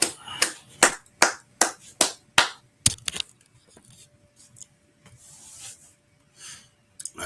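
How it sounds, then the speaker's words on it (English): Slow, evenly spaced hand claps, about ten sharp close claps in a steady rhythm, then stopping into a quiet stretch with faint noise. "All right, clap it up."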